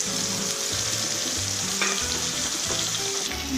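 Pieces of rohu fish frying in oil in a kadai, giving a loud, continuous close-up sizzle with a bright hiss and scattered crackles throughout.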